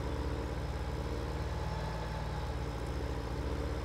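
Tractor engine in Farming Simulator 17, a steady low droning hum running evenly without change, fairly quiet and alone.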